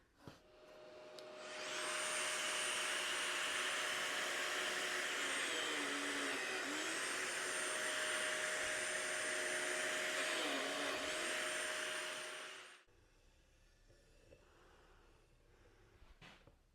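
A biscuit joiner cuts slots in solid cherry boards for a stepstool, spinning up into a loud, steady high whine for about ten seconds before cutting off sharply, leaving a quiet room.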